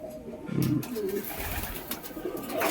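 Madras pigeons, a high-quality flying breed kept at a home loft for sale, coo softly and repeatedly up close, low throaty murmurs rising and falling over faint background noise.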